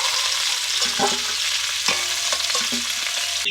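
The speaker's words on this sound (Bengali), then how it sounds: "একটু নাড়াচাড়া করে দিচ্ছি।" Fried cauliflower and potato pieces stirred in a hot oiled pan, with a steady sizzle broken by scattered scraping clinks of the spatula against the pan.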